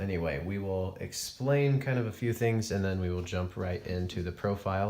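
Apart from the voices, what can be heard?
None of the usual background noises is heard.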